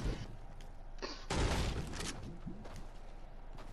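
SMG burst fire in a video game, a dense crackle of rapid shots heard through a game mix, loudest in one short burst near the middle.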